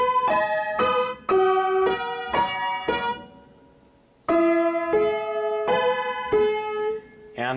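Piano playing the opening sections of a song, a steady sequence of struck chords in two phrases separated by a short decaying pause, ringing clearly with no talking.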